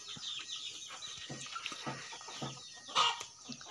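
Chickens kept shut in a pen cluck in short, scattered bursts, with one louder squawk near the end, over a steady hiss of background noise.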